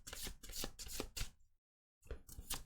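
Tarot cards are shuffled in quick, crisp riffling bursts, close and fairly quiet, with a brief silent pause before a final shuffle.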